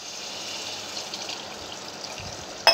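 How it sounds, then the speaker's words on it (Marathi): Water pours into a masala chole chickpea curry as a steady, soft gush, ending with a sharp clink. "त्यात आपल्याला आता पाणी घालायचे."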